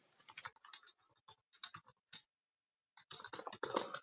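Keys clatter on a computer keyboard while a comment is typed in a quiet room. Short bursts of close, crisp keystrokes are broken by a brief pause, then a denser flurry.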